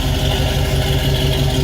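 1966 Pontiac Catalina Wagon engine idling through loud temporary mufflers, a close, steady, heavy rumble with a fast lumpy pulse.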